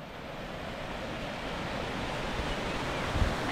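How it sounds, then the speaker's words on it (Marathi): Steady broadband rush of a flowing village river, continuous and fairly close, with a low rumble of wind against the microphone. "ही आपली नदी आहे गावची"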